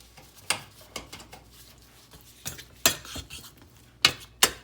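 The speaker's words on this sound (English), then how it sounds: "It's starting to melt actually right now. So what I'm gonna do is I'm gonna stir it all up" Spoon clinks and scrapes against a bowl while a melting baking mixture is stirred, a handful of sharp distinct knocks spaced irregularly over quiet background.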